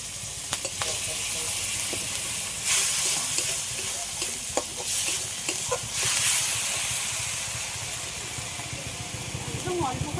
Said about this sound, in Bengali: গ্রেট করে রাখা টমেটো দিয়ে দেবে